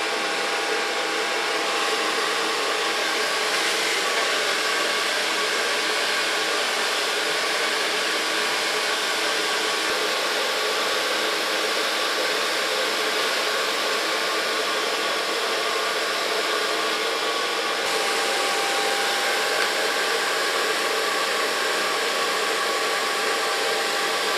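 A hair dryer blows continuously while hair is blow-dried with a brush at a barbershop, a steady, close, even whoosh with no pauses.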